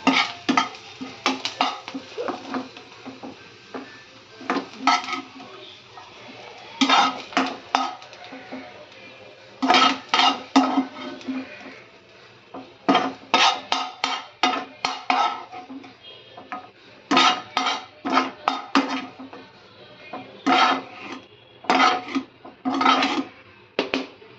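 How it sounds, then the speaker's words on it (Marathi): Fried onion scooped out of a pan with a metal spoon while cooking chicken rassa, repeated clinking and scraping strokes in irregular bursts, close and clear with a faint sizzle beneath. "कांदा काढून घेऊ आपण।"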